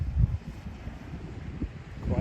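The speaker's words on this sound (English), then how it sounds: "It's quite windy" Gusty wind at a foggy beach in Bratten buffets the microphone with low, uneven rumbles that swell and fade. The ocean is faint underneath and a voice speaks briefly.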